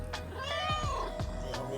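A cat meows several times in a clear, close series of drawn-out calls, with a steady low hum underneath.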